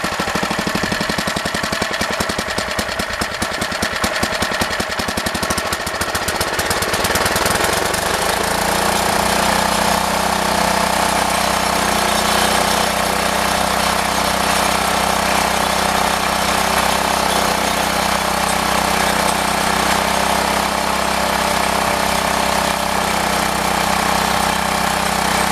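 A junk rototiller's small engine, its carburetor needing cleaning, rattles roughly at first, then the throttle opens and it settles into a steady, loud, continuous drone heard up close.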